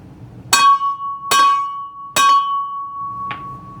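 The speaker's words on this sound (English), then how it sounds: "So what I want to do is peck on it right here with a hammer" A hammer pecks on a steel driveshaft being shortened and straightened, giving four ringing metallic strikes with sustained bell-like tones, the last one lighter.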